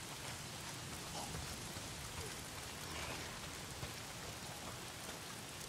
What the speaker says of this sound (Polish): Czemu tu ciągle pada?